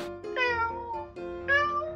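A cartoon cat gives two drawn-out, wavering meows in succession. They are clear and close, over faint background sound.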